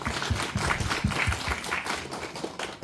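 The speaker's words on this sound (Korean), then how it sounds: "우리 용기 내어 서준 우리 여중 친구들에게 박수 한번." A congregation at a year-end school church service claps in a brief burst of applause, with some individual claps standing out near the start before the sound thins into softer, scattered clapping.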